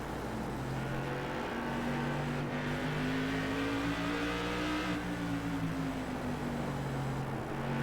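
Race cars circle a racetrack during a Winter Derby event, their engines roaring in a loud, continuous drone with slowly rising and falling pitch as they push down the back straight.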